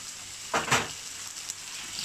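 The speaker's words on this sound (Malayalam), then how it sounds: "അതും ഇതേപോലെ നല്ലോണം വഴറ്റിയെടുക്കുക" Tomatoes sautéing with onions in a pan for Kerala fish pollichathu, a soft steady sizzle with a couple of brief louder bursts of stirring, close and alone.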